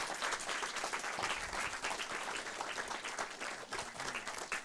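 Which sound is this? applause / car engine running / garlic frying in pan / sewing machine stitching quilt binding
applause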